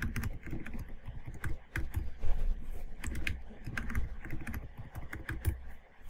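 Password being typed on a computer keyboard, a close, quiet stream of quick irregular key clicks and taps continuing for several seconds with brief pauses.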